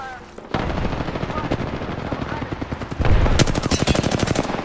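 Rapid automatic gunfire in Apex Legends, with sustained bursts of loud, closely spaced shots that intensify into a denser, heavier volley near the end, and faint voice chatter underneath.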